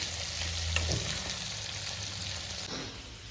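Food sizzles and fries steadily in a pan at home, a continuous crackling hiss with a low hum underneath, close and moderately loud, and no talking.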